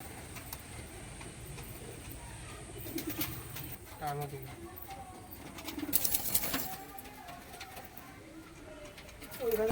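A pair of red jira pigeons coo softly at a pigeon sale, with a faint ticking and a voice in the background. Near the end there are a few louder bursts of wing movement or handling.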